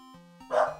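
A single dog bark, loud and close, rising sharply over a quiet steady background hum inside a game setting.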